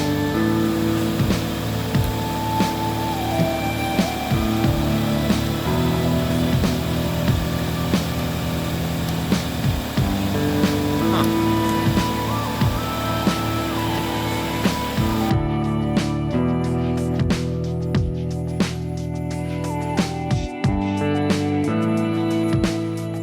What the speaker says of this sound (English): Of course, the air compressor's running.